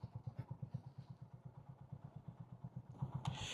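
A motorcycle engine idling close by while the bike is parked outside a hotel, a steady low rhythmic thumping with a brief clatter near the end.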